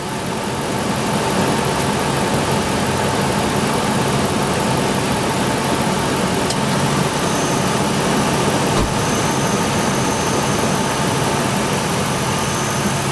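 A car engine idles steadily and loudly at close range while its air-conditioning compressor clutch engages, adding load; the drone stays constant throughout with a couple of faint clicks and no talk.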